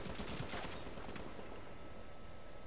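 Light machine gun fire rattles in The Division's Dark Zone, a dense, loud sustained burst of rapid shots that continues without pause and then eases into a reverberant roar.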